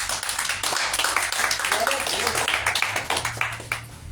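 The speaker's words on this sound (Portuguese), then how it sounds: "Aplauda o Senhor uma vez mais." A church congregation claps in a quick, uneven patter of many hands, close and lively, with voices mixed in beneath the applause.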